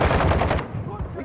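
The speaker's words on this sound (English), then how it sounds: "No, I'm shooting through the windows." Automatic gunfire in a video game as a player shoots through windows, a dense, loud burst of rapid shots that cuts off abruptly partway, leaving quieter game noise behind.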